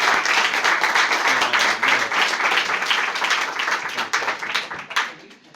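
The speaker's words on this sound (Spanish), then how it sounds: "vamos a recibirle pues con un aplauso a Santiago" Lively audience applause welcoming a lecturer named Santiago at a talk, brisk dense clapping from a room of people that thins out and tapers off near the end.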